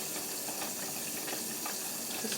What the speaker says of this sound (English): I'm just gonna rinse off the mask with some water.